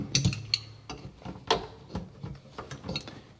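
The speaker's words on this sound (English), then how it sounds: "we'll go ahead and tighten this nut with the crescent wrench" A crescent wrench tightens a nut on a bathroom faucet, producing a series of quiet metallic clicks and small scraping knocks, irregular and close.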